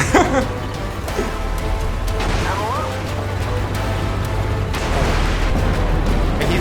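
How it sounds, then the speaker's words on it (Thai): A tank blowing apart under gunfire in the video game Armored Warfare, with booming blasts and a deep rumble under someone commentating, and a sharp burst at the start and another later on. "แหมยิงทีระเบิดทั้งคัน"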